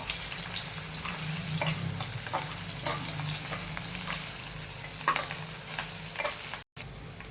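Chopped garlic and grated ginger frying in oil in a pan, a steady close sizzle broken by repeated scraping stirs and one brief dropout near the end, with no talking.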